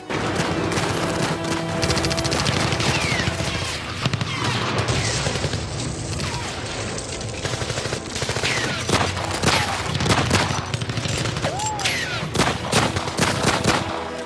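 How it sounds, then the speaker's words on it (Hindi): Rapid gunfire rings out in a narrow alley as shooters open fire, sustained volleys of loud, sharp shots and bursts that crackle and repeat for a long stretch with no talk. "शूटर्स गली के अंदर घुसकर उमेश पाल को गोलियों से भून देते हैं।"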